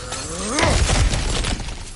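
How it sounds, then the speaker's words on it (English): A breakable object shatters with a sharp smash and scattering debris in God of War Ragnarok, one bright crash followed by a brief rattle of falling pieces. "back to smashing through things for fun and profit"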